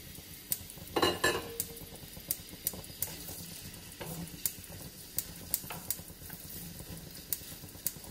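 Chopped onion and piri-piri frying in a pan, a steady close sizzle broken by regular clinks and scrapes of a utensil stirring, with a louder burst of sizzling early on as the ingredients hit the oil.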